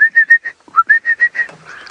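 Yellow-throated longclaws calling at sunrise on an African safari drive, a run of about ten clear, evenly spaced whistled notes, fairly close and loud, ending in a softer trailing note.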